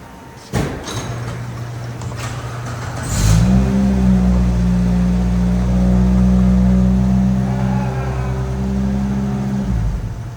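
A Suzuki Samurai engine with a freshly installed transmission starts up and settles into a loud, steady idle that runs for several seconds before cutting off, with a few clunks just before it fires.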